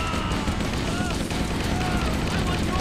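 Rapid gunfire clatters in a modded video game, a dense, loud, continuous barrage of overlapping shots and crashes with someone talking over it.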